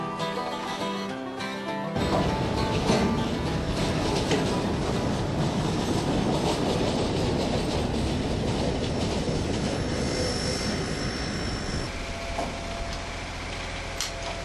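Frisco 1522 steam locomotive train rolls steadily past, a loud continuous rumble of rail noise with clattering wheels and faint squeals, starting abruptly after a quieter moment and fading slightly near the end.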